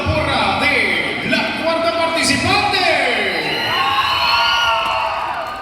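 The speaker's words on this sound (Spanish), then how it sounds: "Vamos con la porra de la cuarta participante." A crowd cheers and whoops for the fourth candidate at an election and investiture event in San Marcos Huista, with loud overlapping shouts, chants and high voices rising and falling throughout.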